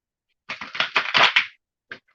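Cards of a witch's tarot deck are shuffled by hand at close range, a quick run of crisp riffling snaps followed by a pause and one last short flick, with no talking.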